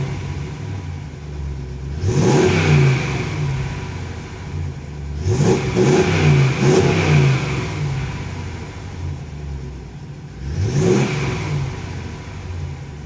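A 2014 Ram pickup with a 5.7 Hemi V8 and a Thrush Hush muffler revs three times, each blip rising from a deep idle rumble and falling back, close and fairly loud with no talking.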